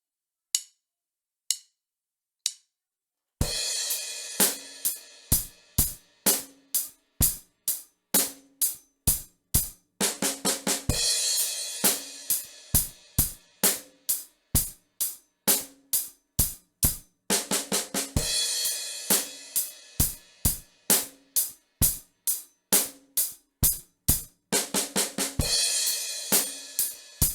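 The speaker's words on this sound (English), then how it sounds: "I'm going to take that first variation and just repeat it and add this little roll to the end" Beginner drum beat on a kit: a few sparse opening hits, then a steady, evenly spaced pattern of crisp strikes that repeats several times, each pass finishing with a quick little roll of rapid hits, loud and close, no talking.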